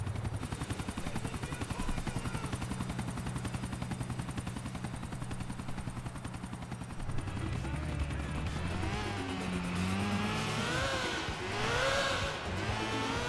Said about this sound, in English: Oh, that's the chopper.